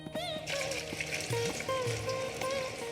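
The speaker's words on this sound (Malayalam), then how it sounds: "ഉരുളിയിലെ വെളിച്ചെണ്ണയ്ക്ക് പാകത്തിന് ഉപ്പേരി കഷ്ണങ്ങൾ കോരിയിട്ടു ഒച്ചയും ബഹളവും ഉണ്ടാക്കി" Banana upperi slices fry in hot coconut oil in a small bronze uruli, a steady quiet sizzle and bubbling with faint clinks and tonal noises from the kitchen over it.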